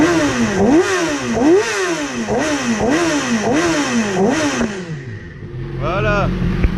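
A Yamaha R6 sport motorcycle engine, freshly serviced with an oil change, revs repeatedly in a steady rising-and-falling rhythm at close range, then drops back to a lower idle with one brief blip near the end.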